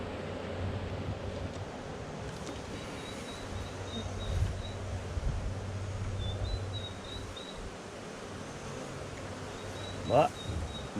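Honeybees buzz around an open beehive as a steady, low, dense drone that continues throughout, with someone speaking faintly over it and brief handling knocks.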